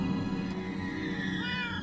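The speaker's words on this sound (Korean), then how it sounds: "잠깐만 얘는 알아! 반쪽 고양이 조시!" A half-cat creature in an SCP horror video game meows in a drawn-out, wavering cry that continues for nearly two seconds, clear and close but fairly quiet.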